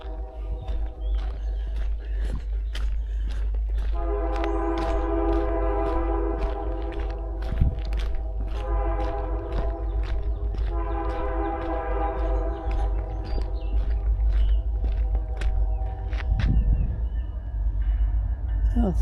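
A train passes behind houses near the GAP Trail at West Newton, a loud steady rumble with the horn blowing twice in long sustained blasts, heard outdoors over clicking wheels.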